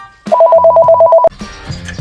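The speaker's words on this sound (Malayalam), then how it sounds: "കഴിഞ്ഞ ദിവസം എനിക്കൊരു കോൾ വന്നു." A phone ringtone plays a rapid repeating electronic tone pattern for about a second, then cuts off abruptly into quieter background sound.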